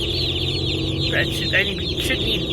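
A crowd of young meat-bird chicks on a homestead peep and cluck together in a dense, continuous chorus of high chirps, heard close up with faint background noise.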